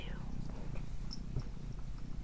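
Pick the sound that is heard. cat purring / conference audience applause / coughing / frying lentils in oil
cat purring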